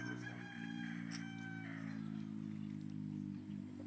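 A young gamecock stag crows nearby on a Philippine farm, its drawn-out harmonic call standing clear over a steady low background hum, with no voices.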